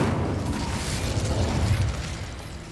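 Incendio fire spell cast in Hogwarts Legacy on PC, a dense roaring whoosh of flame with a low rumbling body that holds steadily for nearly three seconds, close and fairly loud with no voices.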